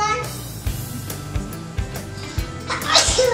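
A single short sneeze bursts out near the end amid light tapping and background chatter while slime is being mixed at home.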